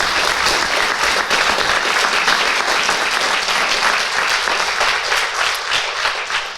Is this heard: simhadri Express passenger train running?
no